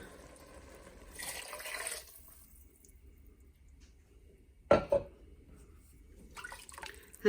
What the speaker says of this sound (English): So at this point, I'm going to add the chicken broth.